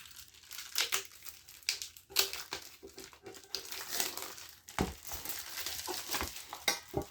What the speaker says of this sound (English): First, of course, we need to unwrap this.